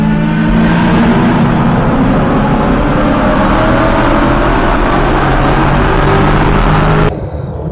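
A street racing car engine roars loudly and steadily, with a dense mechanical drone that holds for about seven seconds before cutting off abruptly into near quiet.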